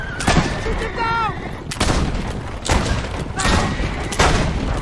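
Gunfire in the Assassin's Creed Brotherhood video game rings out as several sharp, loud shots spaced a second or so apart. Pitched ringing whistles sound between blasts, and faint voices mix in.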